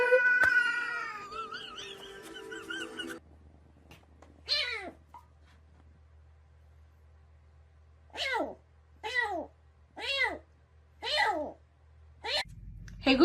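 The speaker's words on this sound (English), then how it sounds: "what sound does a cat make? This is a cat." A cat meows repeatedly in a run of five or six clear, drawn-out cries, preceded by a brief burst of electronic chime tones and followed by a soft rustle.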